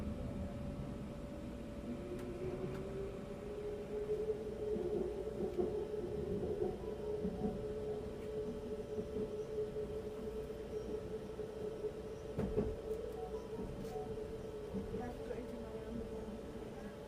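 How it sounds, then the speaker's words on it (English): A Vancouver SkyTrain car slows as it rolls over a track switch, a steady muffled rumble and hum heard from inside the train, with faint clunks as the wheels cross the points. "This part of the SkyTrain ride does start to slow down over here until we're past this switch up ahead."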